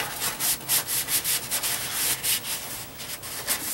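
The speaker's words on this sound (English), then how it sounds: "Next thing to do is just wipe off all the excess." A cloth wipes excess finish off a wooden rubber band gun, producing rhythmic brisk rubbing strokes about twice a second, close and steady, with no voices.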